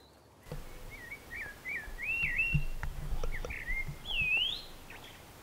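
Blackbirds singing in an English vegetable garden in July, a series of fluting whistled phrases over quiet outdoor background with a few soft knocks.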